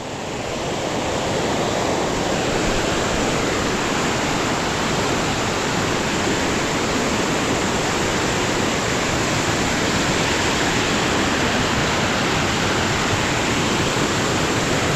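Floodwater from a swollen river rushes past in a loud, unbroken roar, a dense steady wash of water noise that holds at the same level throughout with no voices.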